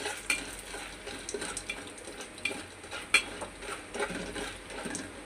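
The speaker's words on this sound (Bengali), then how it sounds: "তেলটা একটু গরম হয়েছে, আমি এখানে এক মুঠ পাপড় দিলাম, দিয়ে একটু লাড়াচাড়া দিলাম" Papad frying in a shallow pan of hot oil and being stirred, a steady low sizzle with scattered clinks and scrapes of a utensil against the pan, close and fairly quiet, no talking.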